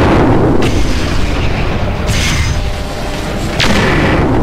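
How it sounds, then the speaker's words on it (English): Autocannon fire and explosions in Mechwarrior 4: Mercenaries, with loud heavy booms and bursts in quick succession, each sharp blast dying off into rumble. "Eat! Autocannon!"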